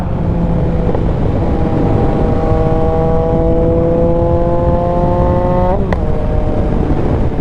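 A Yamaha XSR900 motorcycle engine drones steadily with rising harmonic tones, then a sharp crack near the end as it downshifts, with exhaust popping close and loud.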